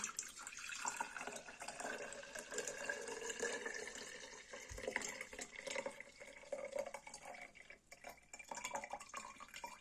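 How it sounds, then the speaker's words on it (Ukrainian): Saffron infusion trickles and splashes as it is strained and poured into a jar, a soft continuous watery pour with small drips, fairly faint and close. "Переціжуємо в цю банку. От таким от нехитрим способом. Переливаємо."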